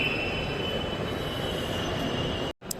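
Metro train at a cold, foggy station platform, a steady loud rumble with a high squealing tone from the wheels, cutting off abruptly near the end.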